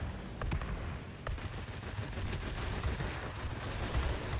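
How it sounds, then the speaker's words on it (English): Anti-aircraft flak fire bursting around a Bf 110 E heavy fighter in the World of Warplanes video game, a dense continuous crackle of rapid pops and bursts at moderate loudness, with no clear talk. "we are taking flak like you read about"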